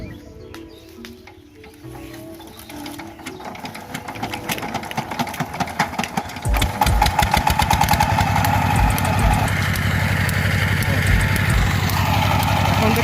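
An engine-driven sugarcane crushing machine for jaggery-making starts up partway through and settles into a loud, rapid, rhythmic mechanical chugging, preceded by quieter ambient noise and a voice.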